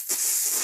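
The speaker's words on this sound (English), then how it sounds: "Now she's shooting steam." A handheld steam cleaner used to clean adidas Ultra Boost sneakers blasts steam in a loud, steady high hiss that starts abruptly and holds close up until the end.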